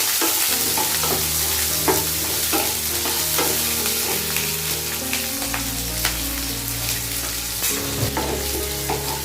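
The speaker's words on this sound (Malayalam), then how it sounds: "ഇനി നമുക്ക് ഇതിലേക്ക് കട്ട് ചെയ്ത് വെച്ചിരിക്കുന്ന സവാള ഇട്ട് കൊടുക്കാം." Chopped onions, one medium-size, frying in hot oil in a pan while being stirred, a loud continuous sizzle with repeated spoon scrapes and clinks throughout, close and without talk.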